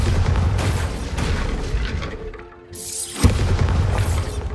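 Bombarda spell explosions in the video game Hogwarts Legacy, loud booming bursts with crackling debris, a brief lull, then another sharp blast followed by dense rumbling.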